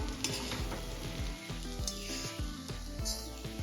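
Sabudana khichdi is stirred in a kadai so it won't stick to the bottom, soft repeated scraping and shuffling strokes over a light sizzle, fairly quiet and close, with no voices.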